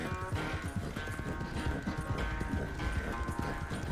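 Horse hooves pound in a steady galloping rhythm in Red Dead Redemption 2, a dense, continuous clatter of close hoofbeats over a low rumble with no talk.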